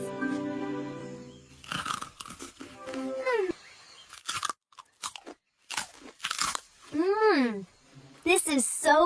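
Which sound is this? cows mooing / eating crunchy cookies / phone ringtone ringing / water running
eating crunchy cookies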